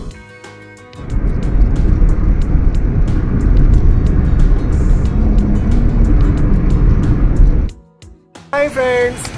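A family car speeds along a smooth highway between Rewa and Jabalpur on a road trip, giving a loud, steady rumble of engine and tyre roar. The roar cuts off abruptly near the end, followed by a few brief scattered noises.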